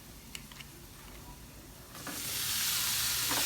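Popcorn shrimp frying in hot oil, a steady close sizzle that swells sharply louder and brighter partway through as the shrimp go in, with a few faint clicks before.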